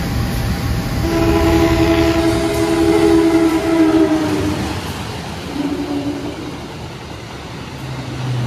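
Train running straight through Sragen station without stopping, hauled by a vintage locomotive, sounds its horn in a long held blast early on, then rolls past with a fading rumble of wheels on rails.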